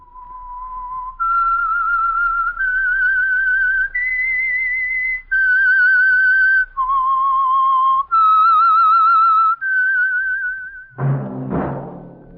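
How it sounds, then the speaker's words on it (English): A melodic whistled tune, the theme signal of the radio show The Whistler, of about a dozen sustained, clear notes stepping up and down, loud and close, ending in a brief burst of sound. "That whistle is your signal for the Signal Oil Program"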